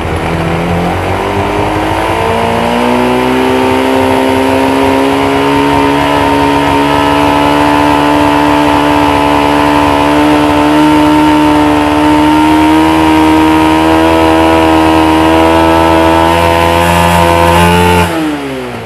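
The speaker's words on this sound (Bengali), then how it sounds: "আমি থ্রোটল দিব এখন।" A motorcycle with a modified magnet coil and rectifier unit runs close by, its engine loud and continuous as the throttle is opened, the revs climbing and holding high before cutting off at the end.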